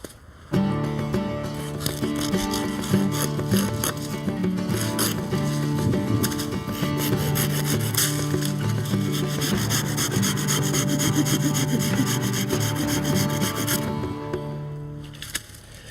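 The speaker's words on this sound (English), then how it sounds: "we're just going to start sawing all of these stems off here, not too far from ground level." A steady, continuous sawing and rasping through woody perennial stems near ground level, close and loud, running nearly the whole time with a rhythmic scraping texture.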